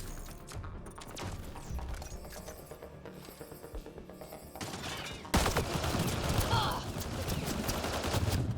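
Assault rifle gunfire in Mass Effect: Andromeda sounds as quick, repeated shots over game noise, growing louder and denser in the second half, with speech present.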